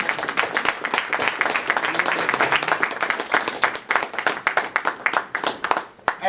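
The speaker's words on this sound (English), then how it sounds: "It deserves another round of applause." Congregation applause during a church service, many hands clapping in a lively, crackling stream that grows more distinct and sparse toward the end, with individual claps audible.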